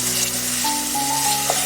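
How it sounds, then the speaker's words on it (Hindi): Masala spices frying steadily in hot oil in a cooking pot for a gobi gosht curry, a continuous close sizzle with a faint stir near the end and no talking. "देखिए मसाला कितना अच्छा भुन गया है"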